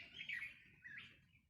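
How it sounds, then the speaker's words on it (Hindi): Birds chirp at a peaceful ashram setting, two short bright calls in quick succession, faint and somewhat distant over a low background hum, with no speech. "इतनी पक्षियों की चहचहाहट"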